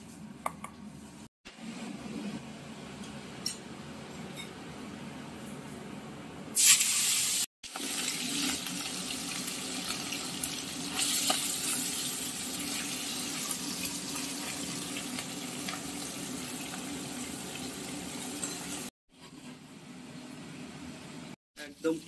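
Tangra fish fry in hot oil in a pan, giving a steady, close, loud sizzling hiss with spattering that starts abruptly and stops, with a voice heard at times.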